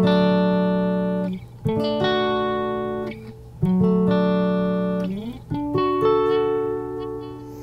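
Guitar strums the same major chord in several inversions, one after another. Each chord rings out bright and sustained before decaying, with short gaps and sliding changes of position between them, played close and clean with no talking.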